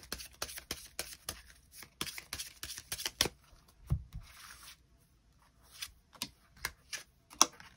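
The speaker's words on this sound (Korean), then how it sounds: "추가 카드 뽑아보도록 하겠습니다" Tarot cards shuffled and drawn by hand: a quick run of crisp card flicks and riffles, then a pause and a few soft, separate card snaps, close and fairly quiet with no voices.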